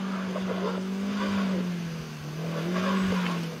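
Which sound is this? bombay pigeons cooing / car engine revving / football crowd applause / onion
car engine revving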